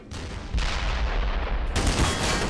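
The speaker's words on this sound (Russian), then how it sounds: "Там еще и танков в меня стреляют." Tank cannon fire and explosions in the video game Black Mesa, loud booming blasts in quick succession, with a fresh heavy burst near the start and another sharper one toward the end, no talking.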